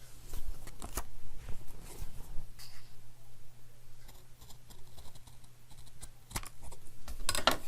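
Scissors snip the corner of a folded paper tag amid light paper rustling and handling, a few crisp cuts near and close, with a louder burst of snipping at the end.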